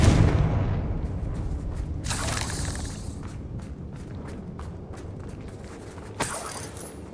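Confringo fire-blast spell explosion in Hogwarts Legacy: a loud blast with a heavy low rumble that decays slowly, then a sharp burst near two seconds, scattered crackles, and a final sharp hit near the end.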